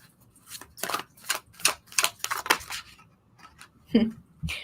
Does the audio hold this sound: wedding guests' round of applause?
no